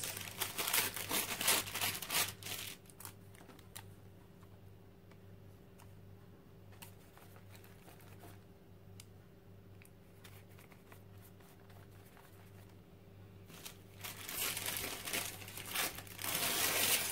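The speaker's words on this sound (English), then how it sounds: "Not that it's so interesting tearing apart a paper and gluing it down" Paper being torn and crumpled for a paper bag art journal gives soft crinkling and tearing bursts at the start and end, with a quieter, sparse middle stretch.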